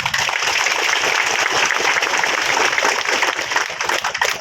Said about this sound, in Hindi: इस उपस्थिति के लिए मैं चाहूंगी कि मंच से सबकी तालियां गुनगुनाएं